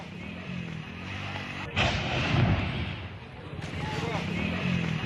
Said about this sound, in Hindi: ये जब सिलेंडर फटा तो देखिए कितना ये बड़ा धमाका था